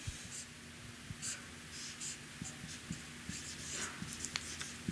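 Pen or pencil scratching out numbers by hand on paper, quiet and close, in short strokes and small bursts with faint rustling between them.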